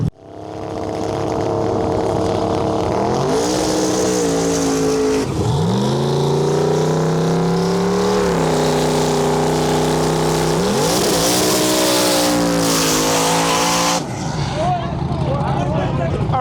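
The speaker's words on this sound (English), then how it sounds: "22 cars coming up, round one" Outlaw Street drag race cars, all-steel bodies, launching down a drag strip, roaring engines rising in pitch through repeated hard gear changes, very loud and close, with a voice talking over the noise.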